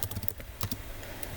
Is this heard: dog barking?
no